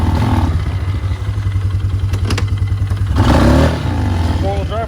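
A Polaris Scrambler 500cc four-stroke ATV engine idles and revs loudly up close, its steady low drone swelling into a stronger rev about two-thirds through, with some clatter over it.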